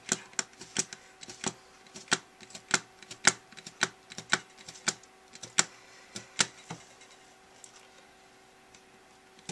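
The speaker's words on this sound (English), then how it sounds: "And I'm just going to punch holes across this part." Holes are punched one after another across card stock for stitching, giving sharp, close clicks in an uneven but steady rhythm over quiet background, with no talking.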